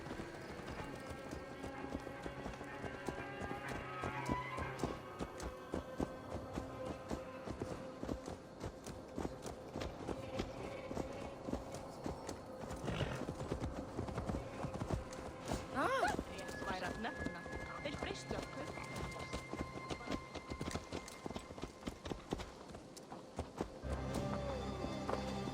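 Horse hooves clip-clop steadily in the video game Assassin's Creed Valhalla, a continuous walking rhythm under character dialogue and background music, with an occasional whinny.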